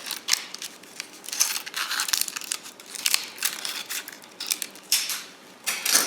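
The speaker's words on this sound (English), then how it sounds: "Take your scissors and cut around the edge here. Cut the excess off" Scissors cut around the edge of a mold for homemade hot chocolate bombs, trimming off the excess in close, crisp, crackly snips and crinkles repeating steadily with no talking.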